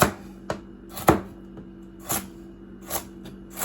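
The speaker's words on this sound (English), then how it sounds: "next we'll dice up the carrots" A knife dices carrots on a cutting board with sharp, irregular chops, about eight distinct thuds over a few seconds, close and clear with no talking.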